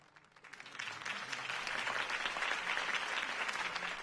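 Crowd applause rises from a soft start into sustained, dense clapping in a Batman video game scene, moderately distant and fairly quiet, with no speech over it.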